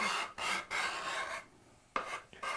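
Card scraper scraping soft wood in close, rasping strokes, about five of them separated by short pauses, heard alone.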